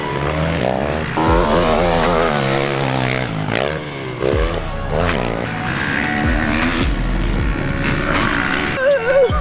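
A 2020 Yamaha motocross bike ridden on an MXGP track: a loud engine revving up and down in repeated rising and falling sweeps, close and continuous, with brief throttle bursts and no talking.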